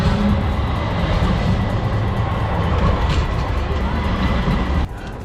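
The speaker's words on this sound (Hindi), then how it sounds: "और ये ट्रेन है, आप देख सकते हैं ट्रेन चल रही है।" A train running in Istanbul, a loud, continuous rumbling roar close by that drops away abruptly near the end.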